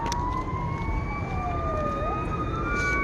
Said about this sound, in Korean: 경찰차 지나간다